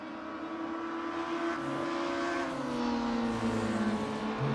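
Engines of VW Scirocco race cars at Brands Hatch in a racing video game drone continuously, a steady close whine that rises and falls slightly as the cars hold speed through a corner, with no talk over it.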